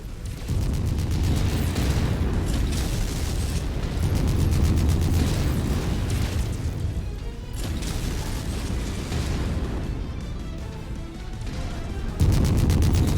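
Missile impacts in Mechwarrior 5 land as a run of heavy, rumbling booms and bursts, one after another with mechanical clanks between them, loud and close, with no voices.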